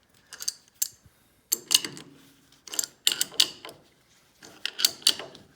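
A bolt on a bicycle axle adjuster for a sporty hardtail kit is snugged down in short bursts of close, bright ratcheting clicks, with brief pauses between them.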